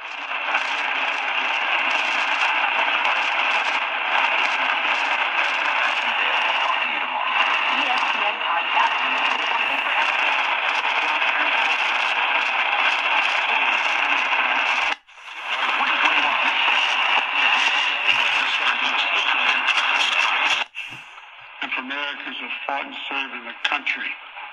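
Distant AM station CBK from Watrous, Saskatchewan, on 540 kHz, received on an Elpa ER-C57WR shortwave radio, with talk heard through a steady hiss and crackle of faint, static-laden reception, briefly cutting out twice.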